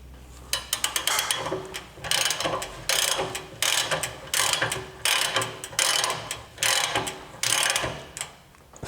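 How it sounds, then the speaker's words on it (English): The King 3.0 shock adjuster on a Gen2 Ford Raptor is turned by hand, giving crisp mechanical ratcheting clicks in quick, irregular bursts, close and distinct, separated by brief pauses. "And you can hear it click."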